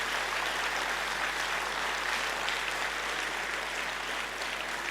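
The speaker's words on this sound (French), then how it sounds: "j'aimerais dire un grand merci à Johan et Nadia pour leur présentation et qu'on peut chaleureusement applaudir" Steady, fairly even applause from an audience for two presenters at a talk, a continuous wash of clapping at moderate distance with a faint low hum underneath and no voices.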